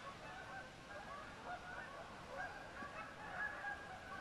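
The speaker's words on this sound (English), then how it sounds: "Ducks? Yeah, a couple of ducks." A couple of ducks and a flock of geese honk and call outdoors on a sunny day, a steady, moderately distant chorus of overlapping honks running throughout without pause.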